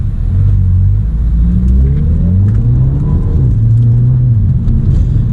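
A 2008 Audi A3 with a dual-clutch gearbox pulls away from a traffic light, its engine note rising in pitch, dropping sharply at quick upshifts and climbing again, loud and close inside the cabin with no talk.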